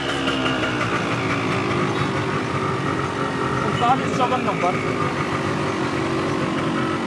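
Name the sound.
two-stroke motorcycle engine idling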